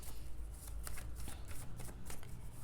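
Tarot cards being shuffled by hand, a rapid run of crisp riffling flutters and slaps repeating close to the microphone, with no talk over them.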